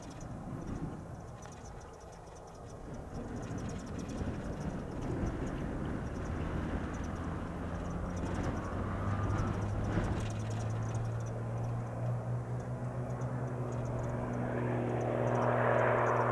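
A general aviation aircraft rolls and takes off from an airport runway, its steady engine roar holding at a distance, then swelling louder toward the end.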